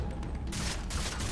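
Rapid gunfire from a weapon in the shooter video game Far Cry 3, a dense burst of loud cracking shots that starts abruptly and continues without pause.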